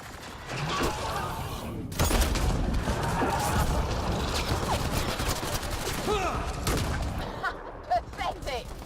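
Enemy gunfire in the sci-fi shooter game Mass Effect: Andromeda comes as dense, continuous bursts of shots with mechanical clanks and impacts, steady and fairly close, with voices talking over parts of it.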